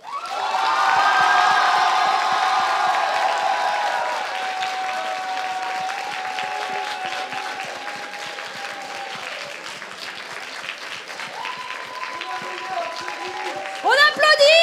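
A crowd at a cosplay contest awards ceremony, DETO 2018, cheers, whoops and applauds the first-place solo Challenger winner, loud at first and then settling into sustained clapping with shouts, while a voice talks over the end.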